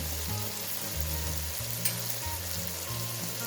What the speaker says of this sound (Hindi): इसके बाद अब हम ऐड करेंगे इसके अंदर लहसुन अदरक का पेस्ट 2 चम्मच।